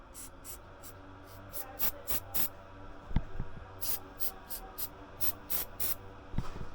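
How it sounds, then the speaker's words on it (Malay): Short bursts from an aerosol can spray penetrating lubricant onto a seized screw on a motorcycle brake disc, about a dozen quick hissing puffs in an uneven rhythm, close and moderately quiet, with a faint metallic clink. "Spray banyak"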